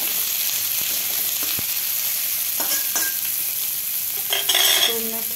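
Carrot, red capsicum and other vegetables sizzling and being stirred in a pan for egg biryani, a steady soft frying hiss with occasional scraping and clinks of the spoon, close and without talk.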